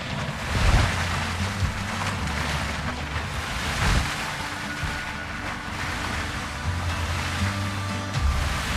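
Ocean waves wash around a small dinghy at sea in the video game Windrose, a steady broad rush of surf and wind with low rumbling swells and gusty buffeting throughout, no talking.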